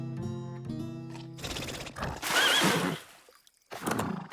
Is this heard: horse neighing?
yes